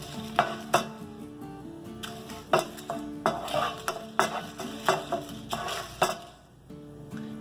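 Black pepper and dried red chillies dry-roasting in a pan without oil for milagu kuzhambu, with repeated scraping stirs and clinks of a spoon against the pan in an irregular rhythm over a faint hiss, close and fairly loud.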